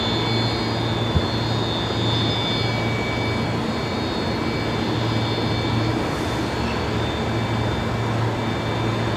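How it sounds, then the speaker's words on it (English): An Airbus A330 jet on final approach to land at Brisbane Airport, a steady broadband engine roar that holds at an even, fairly loud level throughout, with no talk. "The A330 coming in now."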